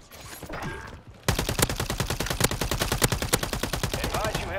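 Call of Duty gunfire: a long, rapid run of automatic shots cracking at a steady rhythm, loud and close, after a brief stretch of quieter game ambience.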